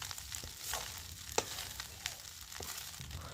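Egg fried rice sizzles and is stirred in a hot pan after chilli powder and coriander powder go in, a soft steady frying hiss broken by a few sharp scrapes of the spoon.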